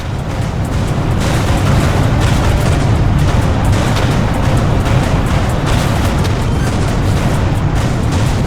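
An explosion in the space combat game Everspace 2: a sustained, loud, rumbling roar that fills the whole stretch with dense low boom and crackling debris noise, steady and without talk.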